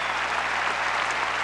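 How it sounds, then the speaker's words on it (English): A crowd at the 1986 Gawler World Championships, an equestrian event, gives a standing ovation, a dense steady wash of clapping heard from a distance. "Standing ovation, Mark,"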